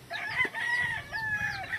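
Yellow-legged hatch chickens vocalize nearby, a rooster-like crowing call with drawn-out tones and short clucks over a quiet farmyard background.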